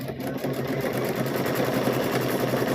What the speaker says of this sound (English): You just do chain stitching.